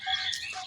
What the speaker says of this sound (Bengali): সকালবেলা পাখির কিচিরমিচির গুলো খুবই ভালো লাগে শুনতে